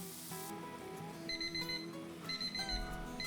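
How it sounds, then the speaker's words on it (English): Kitchen timer alarm sounding while potatoes boil, repeated bright electronic beeping in bursts over a tonal background, loud and near with no talking. "Once they start boiling, set your timer for 20 minutes."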